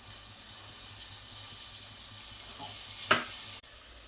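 Ingredients sauté in a pan with a soft, continuous sizzle and a few stirring scrapes, quiet and close, ending with a sharp clack of the utensil.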